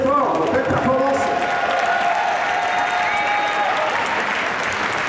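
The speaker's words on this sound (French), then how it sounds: "on applaudit très fort, belle performance" A crowd applauds steadily at the Stunfest 2016 Super Street Fighter 2X finals, a dense wash of clapping with some cheering, while French voices carry over it throughout.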